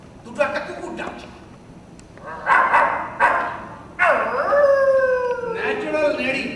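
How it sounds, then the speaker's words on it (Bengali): Stray dogs on a city footpath in the dead of night: a few short barks, then a drawn-out, wavering howl that rises and falls, fairly close and loud against a quiet background. "ফুটপাতে দুটো একটা কুকুর ডাকছে।"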